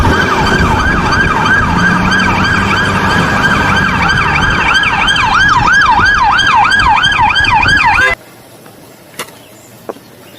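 A toy police car blares a loud, close, continuous wailing siren that rises and falls in a fast repeating sweep, then stops abruptly, leaving near silence with a couple of small clicks.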